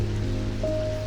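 Steady rain hisses through a dark, stormy day in the indie game Strange Antiquities, a soft continuous wash of falling drops beneath a low hum and a faint sustained tone.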